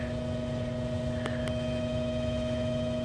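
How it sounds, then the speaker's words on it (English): A furnace fan motor hums steadily with a faint tonal whine, interrupted by a couple of brief soft clicks. "That noise is the fan motor."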